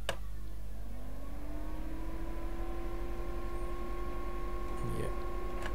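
Electric fan spinning up near a microphone indoors, a steady hum with tones rising in pitch at the start and then holding constant, faint and continuous, with no talk over it.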